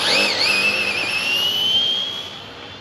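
A Losi 22S RC drag car makes a test pass, its motor giving a sharp rising whine that holds steady and then fades, heard close and alone.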